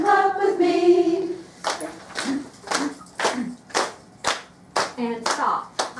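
A group clapping in a steady beat along with a song, each sharp clap standing out loud and close, following a stretch of singing at the start.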